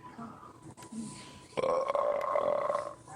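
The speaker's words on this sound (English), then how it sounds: "It's hard to listen to burps." A man lets out a loud, drawn-out burp that runs for about a second and a half in the second half, after quieter muffled sounds near the start.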